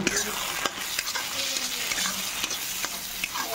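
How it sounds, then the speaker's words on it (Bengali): Ginger-garlic paste and turmeric fry in hot oil in a pan, a steady crackling sizzle with scraping stirring strokes and occasional sharper pops, close and continuous. "এই দেখো হলুদটা দিয়ে এখন ভালো করে একটু কষিয়ে নেব।"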